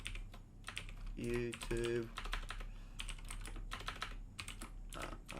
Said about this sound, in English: typing is on point this morning